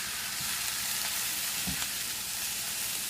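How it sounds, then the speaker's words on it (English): Peanuts fry in a stir fry pan over vegetables and bean sprouts, giving a continuous close hissing sizzle with a few faint soft knocks of stirring. "I've added in the peanuts at the end. You see they're cooking on one side"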